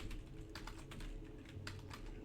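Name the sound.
typing on a computer keyboard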